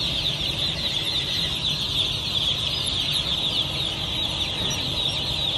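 Dense, continuous high-pitched peeping from a large crowd of baby chicks being released from trays into a poultry farm house, loud and steady throughout with no talking.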